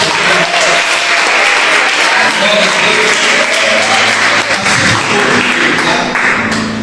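Loud, sustained applause from a crowd, dense clapping filling the whole stretch without a break.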